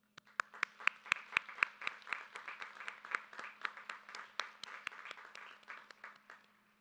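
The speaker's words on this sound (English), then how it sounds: "I'd like to offer another round of applause for them." A graduation ceremony audience claps in another round of applause. Distinct individual hand claps ring out in a quick, steady rhythm over a soft wash of wider clapping. The whole thing is fairly faint and trails off near the end.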